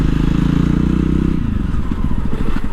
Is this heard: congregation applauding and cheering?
no